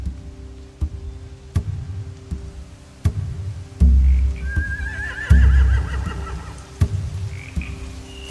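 Horses in The Walking Dead video game whinny in a clear, rising neigh midway, over a regular clopping or knocking rhythm and low rumbling background, without speech.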